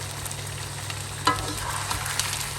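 Chicken pieces frying in salt in a karahi wok on a burner, a steady close sizzle with a single clank of stirring partway through.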